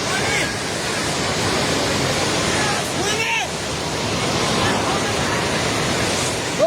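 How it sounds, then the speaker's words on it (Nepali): Flood water of the Trishuli river rushes through a flooded Trishuli Bazaar in Nepal, a loud, steady, broadband roar that continues without a break for the whole stretch. "पानी नजिक आइसकेको छ"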